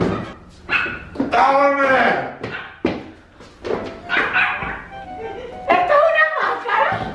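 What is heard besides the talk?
dog barking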